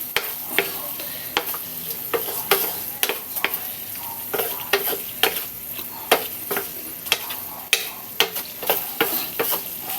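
Chicken frying in a pan with a steady sizzle, while a utensil stirs it and scrapes and taps the pan in an uneven rhythm.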